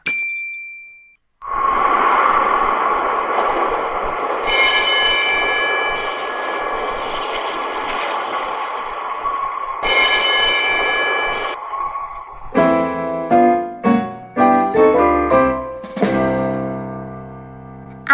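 A tram bell clangs repeatedly over a steady metallic rumble of wheels rolling on rails, then a series of sharp dings and clanks ring out close by.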